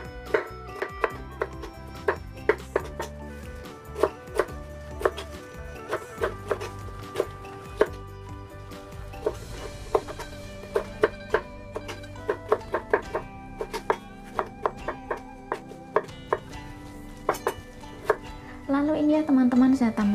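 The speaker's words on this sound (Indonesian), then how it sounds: "Nah, kemudian saya potong-potong seperti ini." A knife chops tofu and vegetables on a cutting board while an egg and tomato dish is prepared, with sharp, fairly regular close-up taps running through the whole stretch and a faint clatter near the end.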